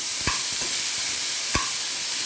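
Parboiled yam is fried in a pan with toasted urad dal for a yam curry, giving a steady sizzling hiss broken by two sharp spatula taps.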